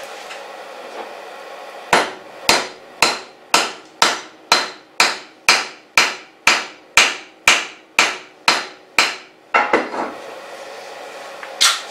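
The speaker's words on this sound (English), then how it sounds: "take it over to our anvil and beat the crap out of it with a hammer and flatten that sinker out a bit" A hammer strikes a small lead fishing sinker on an anvil to flatten it: about eighteen sharp, ringing metallic blows in a steady rhythm, close and loud, then a brief flurry of lighter taps at the end.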